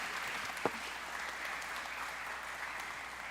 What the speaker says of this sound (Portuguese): Vamos aplaudir a vida deles.